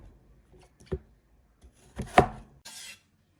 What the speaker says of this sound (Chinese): 像这样大的，我们用刀给它切2半，或者是切4半。